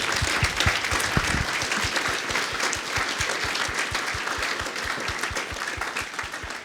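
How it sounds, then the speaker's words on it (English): An audience applauds a panel of Chris Stark and Professor Rebecca Willis at a members' question-and-answer session, a dense, steady wash of clapping lasting throughout at an even level. "Can we give Chris and Rebecca a huge round of applause?"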